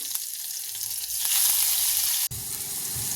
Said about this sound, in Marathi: कढईमध्ये एक उबळी तेल टाकून घ्यायचं त्यामध्ये एक चमचा मोहरी जिरं दोन बारीक चिरलेल्या मिरच्या कढीपत्त्याची पाने